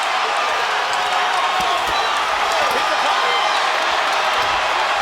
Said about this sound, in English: He's got most of this crowd on their feet right now.